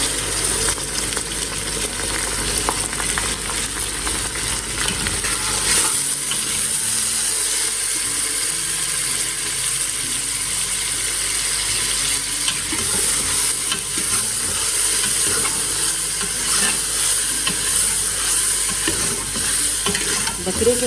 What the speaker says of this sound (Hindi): बकरे के 2 अदद दिल मैंने पैन में शामिल कर दिए हैं और अब हम इनको भूनेंगे।